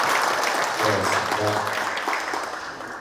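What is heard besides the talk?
audience applause at a meeting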